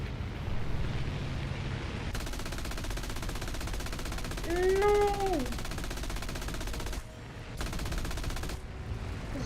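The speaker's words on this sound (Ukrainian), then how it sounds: "Та хто там так стріляє, що заклинює мені?" Continuous dense aircraft machine gun fire in a video game, loud and rapid, with a brief warbling tone in the middle and a short break near the end as the gun jams.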